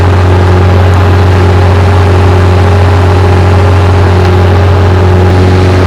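A powerful 351 Marine HO V8 boat engine runs steadily at idle, a deep constant drone with a strong low hum, loud and close, no voices.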